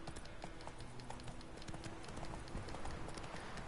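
Galloping horse hooves in The Witcher 3 video game make a rapid, continuous clip-clop, close and fairly loud, heard on their own with no talking.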